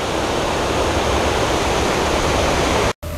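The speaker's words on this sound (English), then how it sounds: "This is the waterfall." Waterfall in front of the Dolphin Hotel in Orlando, Florida, giving a loud, steady rushing roar of falling water that continues unbroken before a brief cut near the end.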